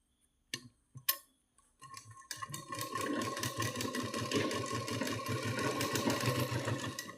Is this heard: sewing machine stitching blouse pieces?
yes